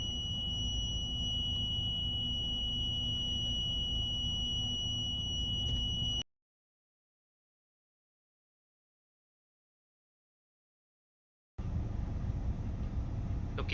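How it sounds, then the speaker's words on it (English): Buzzer on a Lookout32 accident-alert device sounding near an accident-prone location, a steady electronic tone with high harmonics over a low hum, running continuously, cutting out to silence for several seconds, then resuming. "since we are near an accident prone location, the buzzer is on. We can hear that."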